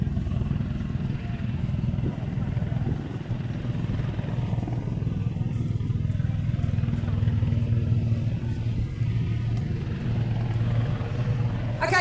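A NZ Navy helicopter at an air display gives off a steady, loud low thrum of rotor and engine, with a commentator talking over it.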